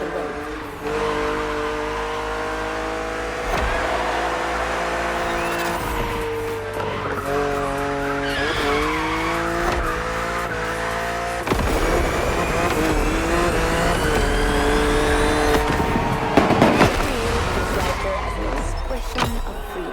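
A BMW in The Crew Motorfest roaring at speed with sustained engine drone, shifting pitch as it accelerates and drifts, tires squealing through long skids, loud and close, with a voice talking over it.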